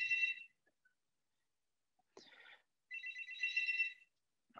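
A phone ringtone sounds in bursts, a bright electronic melody playing, pausing, then resuming more strongly, fairly faint and close, with no talk over it.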